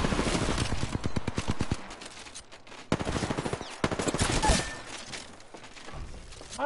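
Rapid bursts of video-game gunfire rattle in dense volleys, followed by scattered single shots and further bursts, close and loud throughout a multiplayer match with a floor-by-floor push.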